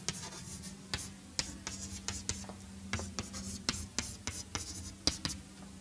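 Writing an equation on a board produces a series of scratchy strokes and sharp taps in irregular bursts, close and moderately loud over a faint steady hum, with no one talking.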